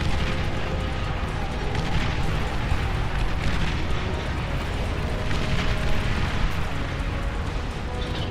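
Bombing in the real-time strategy game Beyond All Reason, a steady roaring wall of overlapping explosions and rumbling blasts, dense and unbroken, like a constant bombardment heard close.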